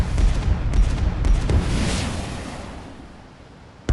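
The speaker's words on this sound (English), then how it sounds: "Missile away, 8 seconds to impact." A warship's missile launches in the mobile naval game Warships Mobile 2, a loud roaring rumble with sharp cracks in the first two seconds that swells and then fades away steadily, with no voices.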